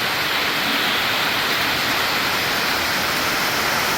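Heavy rain pours down at a state park in a dense, even hiss that stays loud and unbroken throughout.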